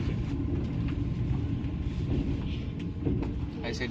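Aboard a Russian long-distance train running from Moscow to Murmansk, a heavy, steady rolling rumble with light clatter from the wagon fills the cabin, and faint voices may sit low beneath it.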